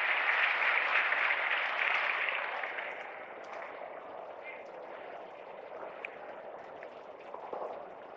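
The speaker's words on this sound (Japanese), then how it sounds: "一段と高い拍手がムヒナに送られています" Sustained crowd applause fills an arena after a uneven bars routine at a European Championships gymnastics meet, loud and steady at first then easing to a softer continuing clatter with brief swells.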